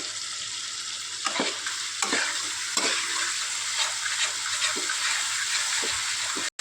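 Masala for a fish curry with tomato sizzles steadily in a pan, a constant frying hiss broken by repeated scraping stirs of a spoon, close and fairly loud.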